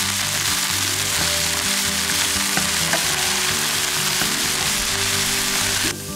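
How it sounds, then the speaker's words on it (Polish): Chopped spinach with garlic frying in a pan, a steady loud sizzle and crackle that fills the whole stretch without a break and eases slightly at the very end. "Teraz na patelnię trafia 300 g pokrojonego szpinaku."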